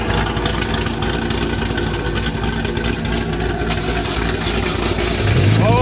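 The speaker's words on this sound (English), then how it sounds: "God, my car sounds so good." A car engine idles steadily and close by, a low rumbling drone that holds even throughout with a slight rise at the very end.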